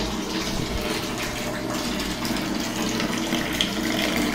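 Continuous splashing and gushing of warm water poured in a steady stream while bathing a dog, close by, with no speech.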